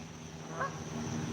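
Geese honking outdoors, a short burst of calls near the middle over steady background hum.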